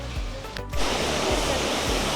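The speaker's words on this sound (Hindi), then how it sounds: "ये है सामने का वाटरफॉल जो देखने हम आए थे, सुंदर है।" A waterfall in Coorg, Karnataka, running low in peak summer heat, gives a steady broadband rush of falling water, loud and continuous throughout with a brief dip near the start, and no talking over it.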